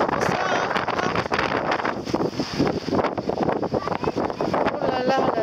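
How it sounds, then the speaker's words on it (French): Strong wind gusts buffet the microphone at Erquy harbour in Brittany, a loud, rough, continuous roar that rises and falls in uneven bursts close to the mic. "Le vent."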